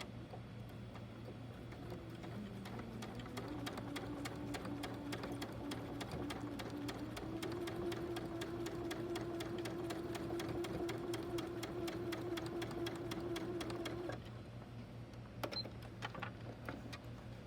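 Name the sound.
sewing machine sewing quilt bias edges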